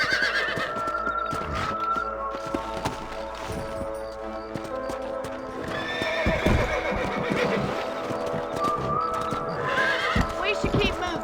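Horses in the video game Red Dead Redemption on PC, with repeated loud neighs and whinnies over steady clip-clopping hooves and some other game sound, close and continuous throughout.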